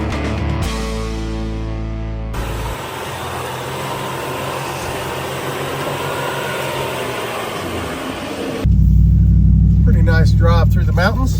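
An off-road overlanding vehicle driving a rough mountain road toward Rich Mountain fire tower, with a steady engine rumble and road noise throughout, growing louder near the end as a voice talks over it.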